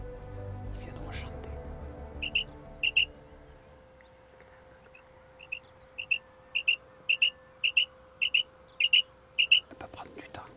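Repeated short, sharp common quail calls in quick triplets ring out in a fairly steady series against a quiet background, following a brief soft murmur.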